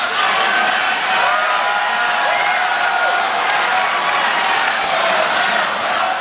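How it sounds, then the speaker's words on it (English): A large crowd roars with steady, dense cheering and shouting that stays loud and unbroken throughout, a continuous wash of many voices. "The crowd is shouting out Nobel, Nobel, Nobel."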